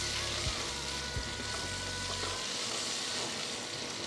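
Pure ghee tempering sizzles in a pan with potatoes starting to brown, a dense, even frying hiss that holds steady throughout, alone and close.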